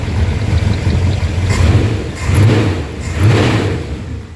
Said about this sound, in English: I got the belt wet, so it's chirping.